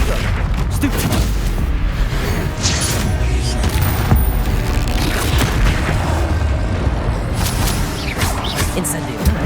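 Bombarda spell explosions in the video game Hogwarts Legacy, loud booming blasts and crackling impacts amid dense, continuous combat noise, with voices shouting over the chaos.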